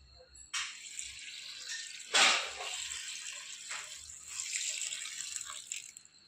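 Water is poured over vegetables and turmeric in a pressure cooker, arriving in splashy bursts with a strong gush partway through and a long, uneven trickle and slosh afterward, close by, with no talk.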